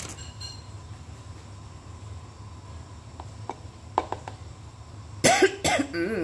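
While spice paste fries in a home kitchen, someone near the microphone coughs several times in short, harsh bursts, the loudest coming together at the end over low background hiss.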